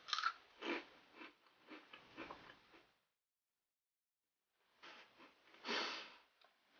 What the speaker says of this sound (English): I'm gonna go for what I can only assume are pea flavored crisps